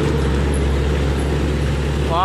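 A Hino truck straining up a steep incline in dense traffic: a loud, steady low diesel drone with a constant engine rumble close by, and a brief rising whine near the end.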